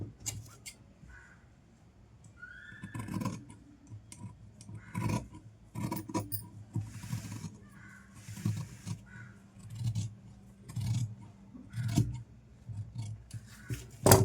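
Scissors cut blouse fabric in a steady series of crisp snips and rasping slides, close and fairly loud, with no talking.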